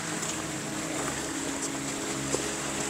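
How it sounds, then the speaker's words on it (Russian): Steady broadband rush of a mountain stream flowing near a small bridge in the winter Harz mountains, continuous and moderately loud with no voices. "Ну, ручей такой нормальный."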